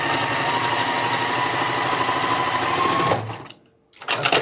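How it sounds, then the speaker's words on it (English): A sewing machine runs steadily while chain piecing quilt blocks in a straight-stitching session, a loud continuous whir that stops abruptly, pauses, then starts again briefly. "I think this is the last one I'm going to sew right now"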